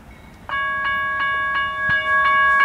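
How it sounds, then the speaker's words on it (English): Train passing close by and sounding its horn, a loud sustained multi-tone blast over the steady rumble and clatter of rail cars rolling past, with no talking. "They're gonna honk right when we..."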